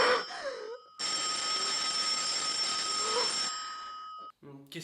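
A telephone rings in a tense night scene from the film Peur sur la Ville, a sustained piercing bell tone lasting several seconds, with brief voices and noises before and after.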